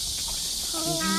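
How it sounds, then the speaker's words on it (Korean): Cicadas sing in a park with a steady, shrill buzzing drone throughout, and a voice briefly speaks over it near the end. "지금도 매미 소리 들리나?"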